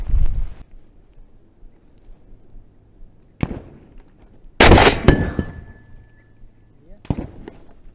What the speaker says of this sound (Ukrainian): зробити постріл із цього чуда